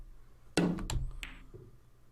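A cue ball strike in the Virtual Pool 4 snooker game: one sharp, solid knock, then a second click as the balls collide, and a softer thud fading after.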